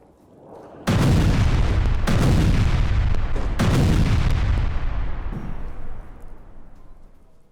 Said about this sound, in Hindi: शेल्टर कैंप के नजदीक मिसाइल हमले की पहले ये तस्वीर देखिए